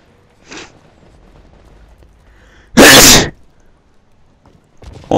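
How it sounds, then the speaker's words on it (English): A single loud, sharp human sneeze bursts out alone after a faint short breath, with quiet background in between during a first-person shooter game session. "I'm about to sneeze."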